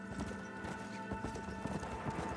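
A horse in Red Dead Redemption: Undead Nightmare is being broken, its hooves clopping in quick, uneven beats close by, with snorting and neighing mixed in over the steady game background.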